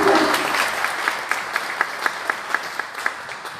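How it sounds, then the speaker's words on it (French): An audience at a press conference for the launch of French Tech Tunis claps in a brief round of applause, with crisp individual claps settling into a steady rhythm and fading toward the end. "Bon, on peut les applaudir quand même."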